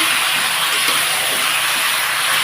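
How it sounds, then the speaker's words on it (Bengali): Marinated fish poured into a hot pan hisses in a loud, dense, steady sizzle, broad and continuous without pause, close up and alone. "এই যে মেখে রেখেছি মাছটাকে দিয়ে দিলাম পুরো ঢেলে"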